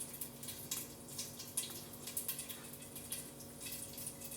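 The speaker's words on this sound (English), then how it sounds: "You can hear it crackling." Popcorn kernels crackle in a hot pan with the lid left slightly ajar to vent steam, giving a steady, soft hiss dotted with sharp, scattered ticks and pops at close range.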